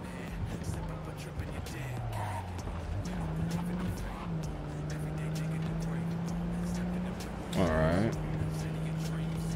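Car driving in Cyberpunk 2077, a steady engine drone under game sounds with a sharp tire squeal rising and falling near the end, mixed with ambient noise.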